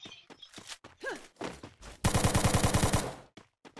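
Video game gunfire: a loud, rapid automatic burst of about a dozen evenly spaced shots near the middle, preceded by scattered clicks and game effects, with a few softer clicks after.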